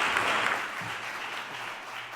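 Brief, steady applause from a conference audience thanking panelists, a broad wash of clapping that fades slightly toward the end.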